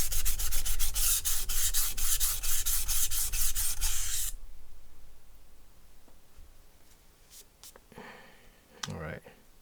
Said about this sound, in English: So you can tell just by sharpening this knife, it's not going to get very sharp.